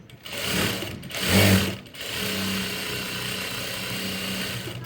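A sewing machine runs in steady close bursts while stitching a folded edge of blouse piping, with a brief pause and a louder surge before settling into a continuous even hum.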